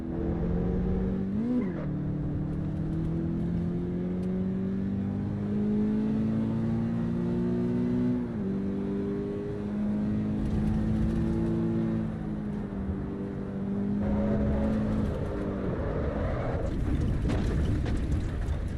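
A race car engine in the Assetto Corsa Evo racing game drones steadily as the car pulls into the pits, a close, continuous hum with small shifts in pitch and no voices.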